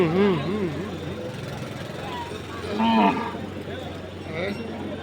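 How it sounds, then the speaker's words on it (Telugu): Bulls lowing at a weekly livestock market in Aija, Telangana, with two or three deep, drawn-out moos rising above a steady hum of crowd noise and faint voices. "ఇక్కడ మరి ఎద్దులు అయితే ఉన్నాయి"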